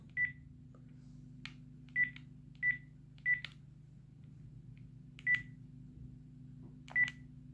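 Keypad beeps from a Panasonic KX-TGA671FX cordless phone: six short, clean single tones pressed at uneven intervals, close up over a low steady electrical hum, with faint handling clicks between them.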